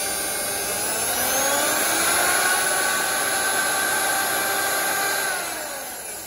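Electric drill for wood and sheet metal with speed control and reverse, running steadily as a loud continuous whine for about five seconds before easing down.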